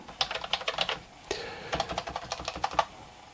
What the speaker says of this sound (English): we get our nice C64 prompt, and the keyboard's working too